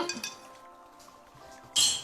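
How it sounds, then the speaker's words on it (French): Ice cubes clink against a glass of water as they are taken out. Light, scattered clinks come close up, followed by a brief louder clatter near the end, with no talk. "Je vais enlever les glaçons."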